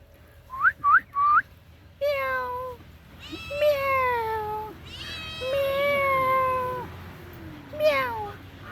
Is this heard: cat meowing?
yes